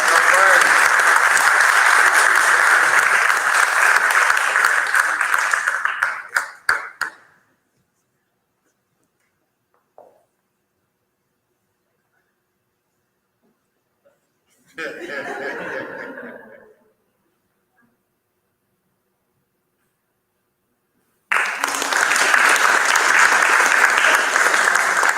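Loud audience applause at a 5th grade promotion ceremony, a long burst of clapping that fades out, then a short mid-volume clap burst, and a final loud round of applause returning at the end.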